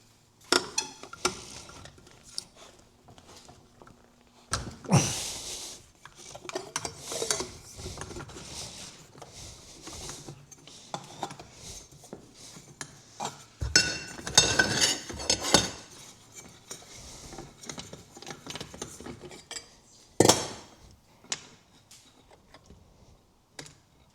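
A homemade notched tool working on the lower unit carrier of a Mercury outboard motor, with irregular metallic clicks, clanks and scraping bursts that are loud at times and quiet between.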